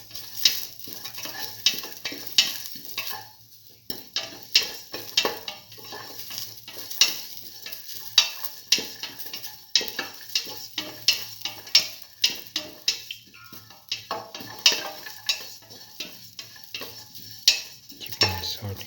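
A garlic mixture being sautéed in a pan for cucumber black lentil rice, with steady sizzling and frequent scraping, clinking stir strokes of a utensil against the pan, close and moderately loud throughout with no talk.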